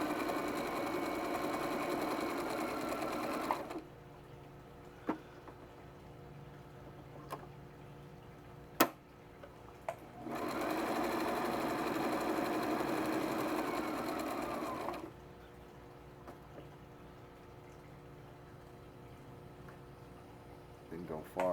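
A sewing machine runs a double top stitch on a drawstring pouch, two sustained whirring runs of several seconds each separated by quiet, with a few small clicks and no voices over the stitching.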